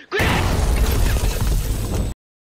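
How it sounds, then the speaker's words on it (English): A video game grenade explodes close and loud, a sudden blast that roars in a broad crashing wash for about two seconds, then cuts off abruptly. "It was a grenade."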